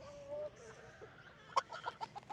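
Backyard chickens clucking in a short run of sharp, mid-loud calls, close by, with a faint voice in the background early on.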